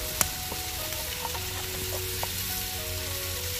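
Tomato going into a pot of Filipino chicken and coconut soup (binakol) with lemongrass, cooked outdoors in a village, giving a steady low sizzle with a sharp clink near the start and a few faint knocks, with no talking.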